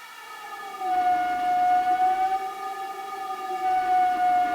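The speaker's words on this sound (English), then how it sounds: "So all sorts of beautiful wind sounds" Synthesized wind from the Steampipe software instrument: a steady, clear whistling tone that holds one pitch with a slight waver, over a soft breathy wash, continuous and moderately loud with no talk.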